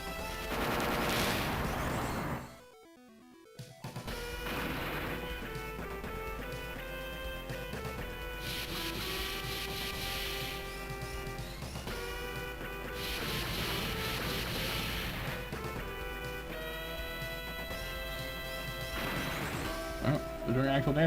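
Missile barrages and explosive impacts in the turn-based robot-animal RPG Zoids Saga II, with ace bombers firing missile arrays, sounding as repeated crashing blasts over a continuous game music backdrop, with a brief silent gap early on.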